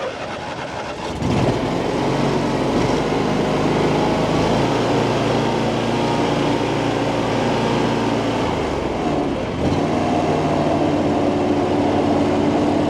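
A small engine idles steadily at close range, a continuous running drone that holds from just after the start to the end with a brief dip near the ten-second mark, and no talk.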